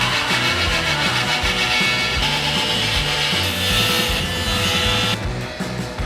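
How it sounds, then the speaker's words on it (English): Router cutting a circle into the wood of a floating nightstand, a loud, rough grinding and chattering roar with pulsing low-end bursts as the bit bites through, close up and continuous, ending with a brief lighter scrape. "Now I'm going to route out the circle"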